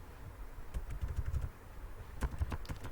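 Keyboard typing during an MS Word formatting lesson: bursts of quick, close key clicks in two clusters with a short pause between, fairly quiet and with no talking.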